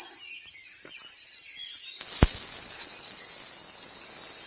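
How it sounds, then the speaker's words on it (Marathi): A dense, steady chorus of crickets chirps loudly and continuously at night, swelling in intensity partway through, with a brief low thump. "खूप आवाज येतो रातकिड्यांचा"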